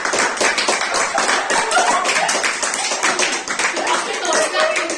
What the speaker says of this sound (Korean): 아이고 박수 치고